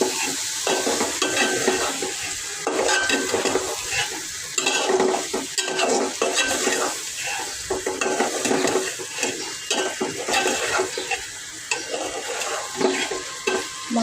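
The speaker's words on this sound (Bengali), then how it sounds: "কষানো হচ্ছে।" Food being stir-fried in a pan, with a steady sizzle and repeated scraping and stirring strokes running throughout, close and fairly loud, with no voices.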